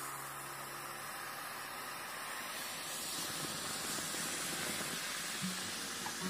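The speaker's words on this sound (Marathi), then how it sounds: "नंतर त्याच्यामध्ये चहा ओतायचा आहे" Tea poured into a hot clay kulhad for tandoor chai gives a steady, loud hiss and sizzle of steam that runs unbroken for the whole stretch, close by, with no talking.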